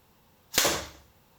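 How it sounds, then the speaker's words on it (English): A compound bow fires an arrow through a sheet of paper in a basement, one sharp, loud snap and thwack with a brief decaying rush afterward, alone in a quiet room. "I'm going to shoot this bow in my basement here, and I prepared everything for the paper test"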